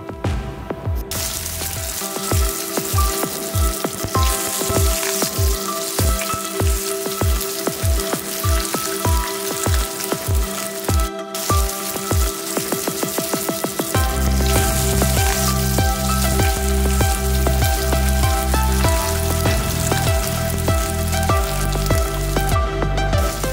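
Vanjaram fish sizzles loudly in hot oil in a pan, a dense continuous crackle with rhythmic low thumps early on, then the sizzle carries on steady and full throughout with no voices.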